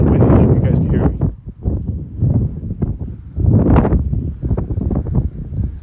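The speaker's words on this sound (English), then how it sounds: "So it's a little windy." Wind gusts buffet the microphone outdoors, a low, rough rumble rising and falling beneath a person talking steadily throughout.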